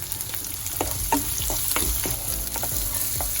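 Green chillies, shallots and other vegetables sautéing in a pan, a close, constant frying hiss with intermittent stirring scrapes of a spoon through the mixture.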